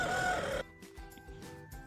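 A rooster at a village cockfight during the Sankranti festival crows loudly and close for about half a second, then quieter clucks and scattered background noise follow.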